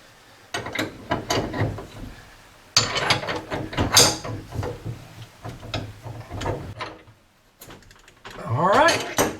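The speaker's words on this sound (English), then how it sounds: "we're going to take this fitting and we're going to screw it into this regulator. And we're going to tighten it up." A gas fitting being screwed and tightened into a cooktop regulator, giving close metallic clicks, scrapes and ratchet-like turning sounds in irregular bursts, with a brief squeak near the end.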